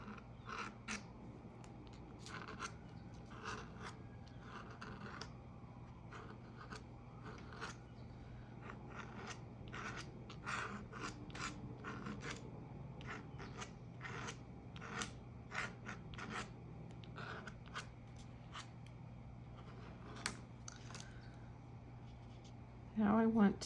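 Tops of handmade craft pieces being scraped with a tool, a quiet series of short, sharp rasping strokes repeating at an uneven pace, close by, with a faint low hum underneath.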